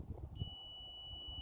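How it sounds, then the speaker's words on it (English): A continuity tester touched to a good vehicle fuse from a truck's trailer taillight circuit gives a single steady, high-pitched electronic beep that starts after a brief muffled handling sound and holds to the end, fairly quiet and close. "and you hear that beep"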